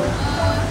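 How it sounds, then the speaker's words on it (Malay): Heavy rain pouring outside a cafe during flood season, a dense continuous wash of noise heard briefly and steadily throughout. "sorry lah kalau tak dengar sebab hujan lebat"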